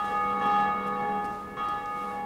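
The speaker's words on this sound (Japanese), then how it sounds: "さて、鐘を鳴らしますか。" A large bell rings out in the video game Dark Souls Remastered, its sustained metallic tone with bright overtones swelling, fading slightly and being struck again partway through.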